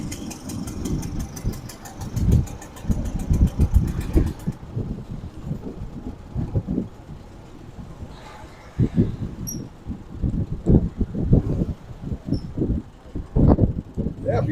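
A 1914 Ford Model T engine chugs and rumbles at close range while riding down Woodward Avenue in a parade of about 50 Model Ts, with irregular low throbbing pulses, gusts of wind noise and faint chatter of passengers in the background.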